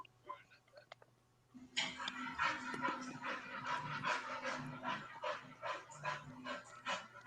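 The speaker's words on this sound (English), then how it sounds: "He's panting quite a lot." A puppy named Everett pants heavily and steadily, fast breathy rhythmic huffs close to the mic, running continuously for several seconds after a quiet start.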